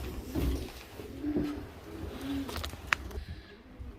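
Pigeons coo softly in a loft, a few low repeated coos spaced across several seconds with light rustling and a brief sharp chirp, fairly faint and close.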